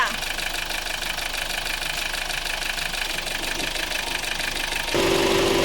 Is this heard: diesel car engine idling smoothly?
yes